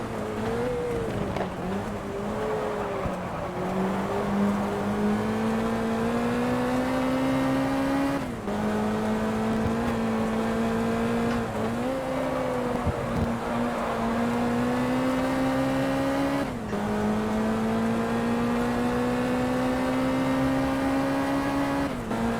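Race car engines at Monza in GT Legends, a loud continuous whine climbing through the gears, with brief dips at each shift and a faint tire squeal, with no one talking.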